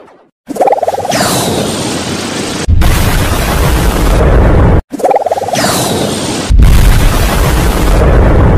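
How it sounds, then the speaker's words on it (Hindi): A cartoon fireball explosion blows up monsters and zombies as a loud, booming blast with a rising whoosh. The roar repeats in two long, heavy bursts. "इन लोगों को तो आग के गोले से उड़ा देना चाहिए"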